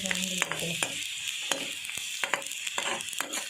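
Spices fry and sizzle in hot oil for chicken green masala, with a steady crackling hiss broken by sharp scrapes and taps of a spoon stirring the pan, loud and close.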